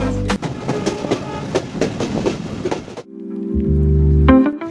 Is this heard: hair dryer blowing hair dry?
no